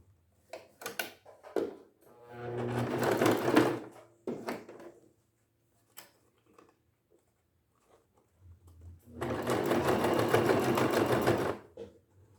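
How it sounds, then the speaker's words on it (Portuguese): A sewing machine stitches a fabric Easter bunny bag, two close bursts of rapid mechanical whirring, a short one early and a longer run later, separated by quiet pauses with light handling clicks. "E vou passar uma costurinha aqui."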